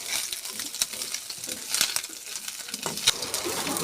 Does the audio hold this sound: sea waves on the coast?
no